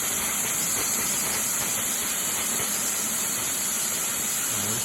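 A steam locomotive blowing off steam, a steady loud roaring hiss that holds unbroken throughout, heard alone in the dark.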